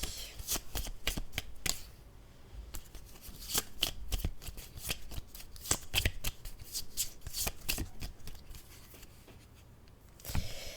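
Oracle cards are shuffled by hand in repeated crisp riffling bursts, close and steady, with brief pauses between rounds and no talking.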